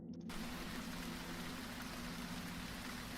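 A rain sound effect plays during a tabletop role-playing game session, a steady hiss of rainfall at moderate volume with a low hum beneath, continuous and with no talk.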